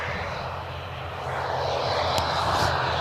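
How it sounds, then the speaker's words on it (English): Airliner coming in to land at Birmingham Airport, a broad continuous jet roar heard from outside that swells gradually louder as the aircraft approaches. "we've got another aircraft coming in"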